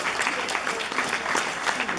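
Wedding reception guests applaud steadily in a dense, continuous round of clapping that fills the room for a couple of seconds, with some voices mixed in.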